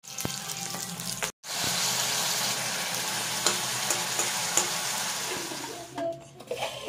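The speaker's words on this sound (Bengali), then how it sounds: "এই ঝিঙা ভাজা করব।" Sliced ridge gourd frying in a hot pan, a steady close sizzle with occasional stirring clinks, cut off briefly once before carrying on.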